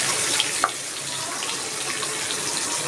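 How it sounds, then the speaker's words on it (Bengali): Tap water poured into a bowl while cooking jackfruit seed kofta curry, a steady, continuous splashing gush up close, with no talk. "দিচ্ছি বাটি ধোয়া একটুখানি জল"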